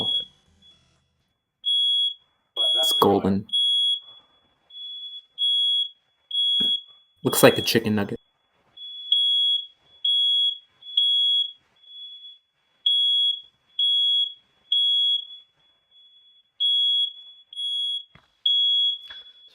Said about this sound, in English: Got a smoke alarm going off from somebody cooking in another room.